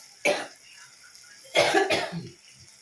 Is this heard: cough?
yes